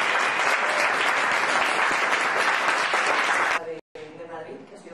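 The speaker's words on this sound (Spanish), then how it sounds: "yo diría de darles todos un fuerte aplauso para él" Loud, sustained applause from the audience at a public-speaking club meeting in Madrid runs for several seconds, then stops abruptly, leaving a brief gap and faint voices afterward.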